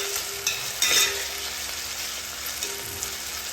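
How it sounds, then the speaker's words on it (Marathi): Potato pieces frying in a pan on low gas for sabudana khichdi, giving a soft steady sizzle with a few brief stirring scrapes and clinks, close and fairly quiet. "बटाटा आपल्याला चांगला एकदम व्यवस्थित शिजेपर्यंत शिजून द्यायचं"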